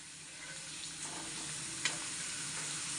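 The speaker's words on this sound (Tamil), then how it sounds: "இப்போ நான் ஒன்று ஒன்றா பொரிச்சுக்கிட்டு காமிக்கிறேன் பாருங்க" Murukku made from just two ingredients fries in hot oil, a soft, steady, continuous sizzle with a faint bubbling hiss and one brief small clack.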